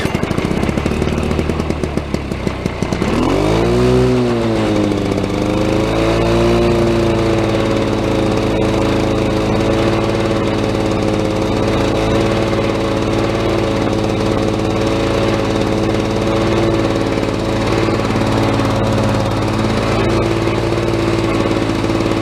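Two-stroke Lawnboy lawn mower engine catching after a pull start, then running steadily and loudly at a constant rumbling idle with a buzzing drone throughout, close by.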